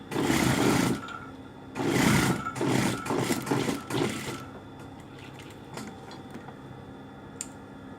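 A sewing machine stitches a tuck to shorten a shirt sleeve, running in several quick mechanical bursts separated by short pauses, close by, then fading to quiet handling noise near the end.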